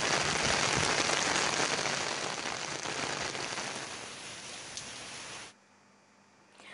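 Steady, dense hiss of heavy monsoon rain pours without pause, then drops away abruptly near the end, leaving quiet.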